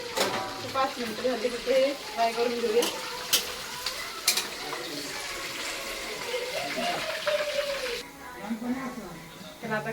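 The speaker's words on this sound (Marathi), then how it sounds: "कांदा फ्राय टाकलाय सुरुवातीला" Onion frying at the start of a crab chilli, an Agari-style stuffed crab dish, sizzles and crackles steadily with stirring as people talk over it.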